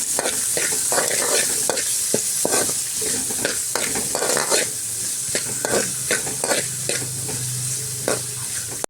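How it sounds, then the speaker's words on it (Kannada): Onions sizzling and frying in a pan, with constant loud crackle and repeated stirring scrapes throughout, close and without talk. "ನೆಕ್ಸ್ಟು ಈರುಳ್ಳಿ ಹಾಕ್ಕೊಂಡು ಇದನ್ನು ಫ್ರೈ ಮಾಡ್ಕೊಳ್ತೀನಿ"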